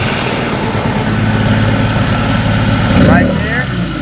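The engine of a Stihl BR 800 C-E Magnum backpack blower runs with a loud, close, steady two-stroke drone and a brief surge near the end, while someone talks over it.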